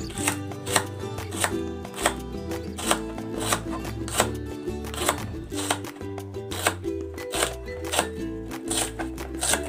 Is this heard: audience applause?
no